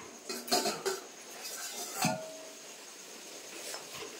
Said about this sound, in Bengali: এবার আমি ঢাকাটা খুলে দেখবো যে পটলগুলো সেদ্ধ হয়েছে কিনা